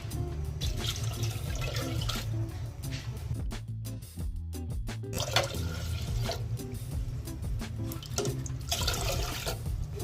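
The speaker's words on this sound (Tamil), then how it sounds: "இதுல நம்ம 4 கப் தண்ணி ஆட் பண்ண போறோம்." Four cups of water poured over washed black rice and dal in a pot in a home kitchen, a steady splashing gush with brief dips and surges over about ten seconds.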